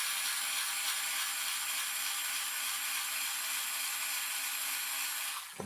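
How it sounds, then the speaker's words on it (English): A small drill bores a hole in a part of a 2018-2020 FOX Factory Transfer dropper post, a continuous faint high-pitched whir that runs steadily for several seconds before stopping. "we grab a drill,"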